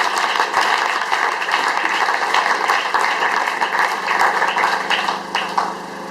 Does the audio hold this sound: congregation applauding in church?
yes